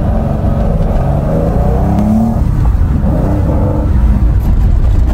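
A 1972 Porsche 911 in Gulf livery with a carbureted engine runs loud and close, holding a steady, rough mechanical growl throughout.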